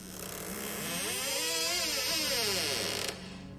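A door with rusty, dry hinges swinging open, letting out a loud wavering creak that rises and falls in pitch for about three seconds before stopping abruptly.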